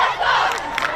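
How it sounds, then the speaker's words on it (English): A big crowd packed onto a regatta pier cheers and shouts loudly and continuously for the Ladies College and Musaeus College rowing crews during a race, a dense roar of many voices filling the whole moment. "We see a really big crowd here at the pier, pushing and cheering on for Ladies College and Musaeus College"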